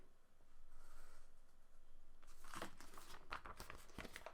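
A paper half box is cut in half with scissors, quiet at first, then a run of close, crisp snips and paper crinkling.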